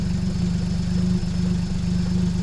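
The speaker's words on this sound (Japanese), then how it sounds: "これマフラーからの音なんですけど、" Daihatsu mini truck engine idling, heard from inside the cab with muffler sound carrying in: a steady low, rhythmic putter, loud and even throughout with no voices.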